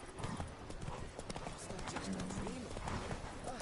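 Steady clip-clop of Roach the horse's hooves in The Witcher 3, a continuous trotting rhythm heard faintly under a voice speaking.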